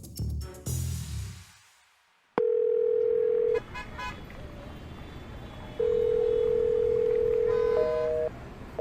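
Telephone ringback tone on an unanswered call, two long steady beeps separated by a pause, loud and close, after a short burst of other noise at the start.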